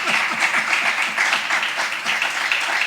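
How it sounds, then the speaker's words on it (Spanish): A church congregation applauds during a Bible study, a steady, loud patter of many hands clapping with a faint rhythmic pulse underneath. "Dar un aplauso a Cristo bendito."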